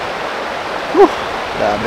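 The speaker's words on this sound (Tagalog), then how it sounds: "Yung alon ng tubig doon, malakas siya eh." Strong, cold river current at a clean freshwater riverside campsite in Real, Quezon, a steady broadband rush of flowing water filling the whole clip, with a brief voice speaking over it.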